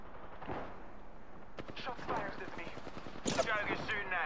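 Apex Legends gunfire, bursts of rapid shots and impacts mixed with a character's voice lines, with a sharper louder volley near the end.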